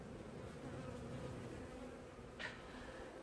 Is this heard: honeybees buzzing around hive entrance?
yes